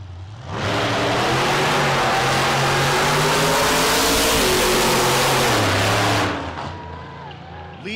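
The Nightmare Mustang, a blown alcohol drag race car, launches hard and roars loud and close for about six seconds with a rising, shifting engine note, then fades away down the track.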